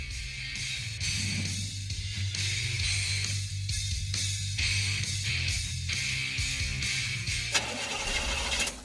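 A car engine struggling to start, repeated cranking and stuttering turnover in uneven bursts, loud and close, ending with a brief rougher catch.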